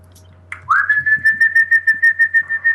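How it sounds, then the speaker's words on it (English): A clear, loud whistled wake-up call in a guest house setting, a rising note that settles into a steady pulsing tone repeated in quick, even beats, close and alone. "you are given a wake up whistle"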